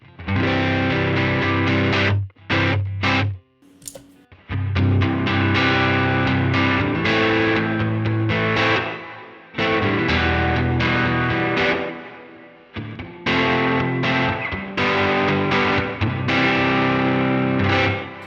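Overdriven electric guitar through a Minotaur pedal on an HX Stomp, reverb switched off, strumming rhythm phrases in bursts with short gaps and abrupt stops, loud and dry throughout.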